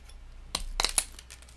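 Strong scissors snip through electronic component leads while a Larson scanner kit is being assembled, giving a few sharp, close metallic clicks in quick succession, quiet and with no talk.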